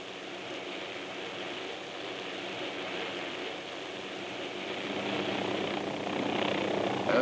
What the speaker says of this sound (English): As we watch a maximum performance takeoff, we can readily see that the maneuver differs from normal takeoff